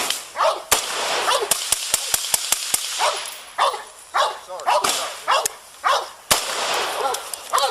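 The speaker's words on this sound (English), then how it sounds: "He's firing out the window." Gunshots fired out a window during a police encounter with a suspect ring out as a string of sharp, loud cracks, some in quick bursts and others spaced apart, mixed with shouting voices.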